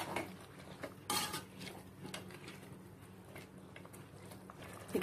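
Rice being stirred into nearly cooked mutton in a cooking pot for white pulao, with close scraping and clinking of a utensil against the metal pot, a sharper knock near the start, over steady kitchen hum.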